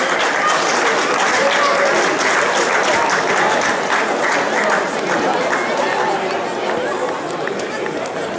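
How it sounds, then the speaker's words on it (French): Steady, dense applause from a crowd at a youth football tournament prize ceremony, sustained clapping filling the whole stretch with faint chatter mixed in. "On peut les applaudir."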